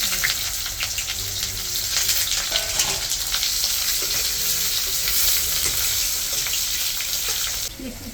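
Potatoes fry in hot oil with whole cumin seeds and bay leaf, a loud, continuous close sizzle with scraping stirs over it, easing slightly at the very end.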